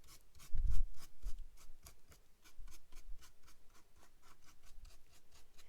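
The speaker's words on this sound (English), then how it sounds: "this dry brush technique is really cool because it brings out a lot of that texture from our paper mache clay" A dry brush scrapes paint across the textured surface of a paper mache clay skull in steady, close, repeated strokes, soft rubbing rasps with a few louder bumps near the start, no talking.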